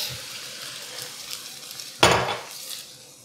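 Cornstarch slurry being stirred into pepper steak sauce in a pot, with a sharp scrape and clatter of a utensil against the pot midway over a low, faint sizzle, and no talking.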